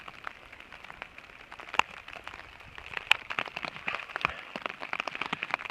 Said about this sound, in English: It's raining pretty good. You can see it dripping off the tarp maybe. I mean, not tarp, my umbrella.